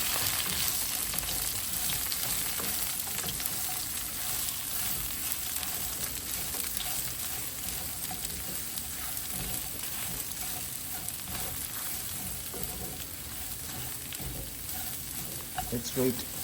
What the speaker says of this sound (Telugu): ఇట్లా మిక్స్ చేద్దాం ఫస్ట్